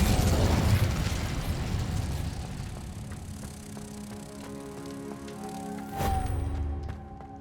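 Incendio fire spell from Hogwarts Legacy bursts out in a loud whooshing blast that fades slowly, and a second, smaller flare of flame comes near the end, over a quiet ambient background.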